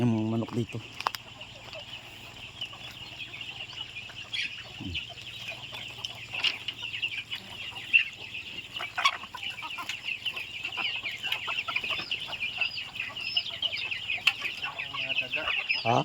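Someone's chickens cluck on a mountain homestead, a continuous mix of near and farther clucks and squawks over outdoor ambience, with faint voices at times.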